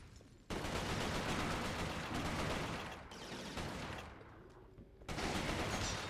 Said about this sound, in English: I just heard gunshots or bullseye rounds